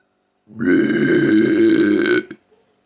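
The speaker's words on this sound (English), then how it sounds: "I could also just burp on stage and see how well that goes over" A single loud, drawn-out burp lasting under two seconds, close and resonant, ending abruptly in quiet.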